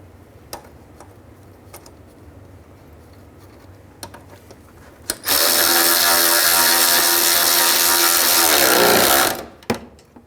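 A power tool drives a replacement bolt into a Honda Element front bracket with a loud, steady whir of about four seconds that winds down, preceded by a few sharp metallic clicks and taps.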